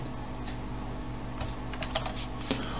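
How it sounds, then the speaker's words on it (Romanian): The Alt+F3 key combination pressed on a computer keyboard while working in a word processor: faint, sparse key clicks, with a couple of sharper taps near the end over a low steady room hum. "facem combinația de taste Alt F3"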